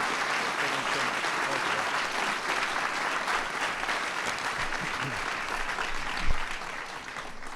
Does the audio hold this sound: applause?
yes